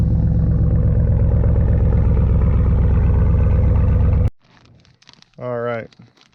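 A Subaru Forester with a catless up pipe and muffler delete idles loud and close in a rough burbling drone for about four seconds, then cuts off abruptly, followed by a short burst of talk.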